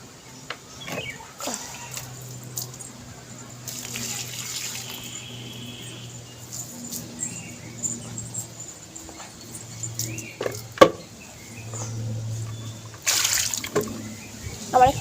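Tap water running outdoors while feet are washed, intermittent splashing and flowing water at moderate distance, with a dog barking at times, a low hum and occasional knocks in the background.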